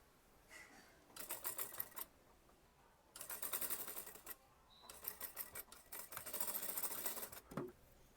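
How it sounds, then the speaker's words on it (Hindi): A sewing machine stitches a sleeve onto an Anarkali kurti in three steady runs of rapid mechanical whirring, each lasting about a second or two, separated by quiet pauses, heard close and fairly soft. "आप थोड़ा सिलाई करके स्लीव को अटैच कर सकते हैं"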